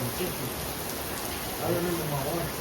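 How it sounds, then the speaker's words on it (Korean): Heavy rain pours down in Verona, Italy, as a dense, continuous hiss of drops spattering on surfaces nearby, with faint murmurs beneath it. "걷다가 또 비가 많이 와서 잠깐 숨으로 들어왔어요"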